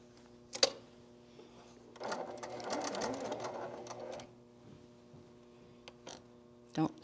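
A heavy-duty sewing machine stitches through several layers of a zipper pouch in one noisy, rattling burst of about two seconds over a low hum. Isolated clicks and handling knocks are heard before and after the stitching.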